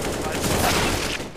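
Counter-Strike gunfire crackles as a continuous burst of shots for over a second, loud and dense, with voices audible underneath.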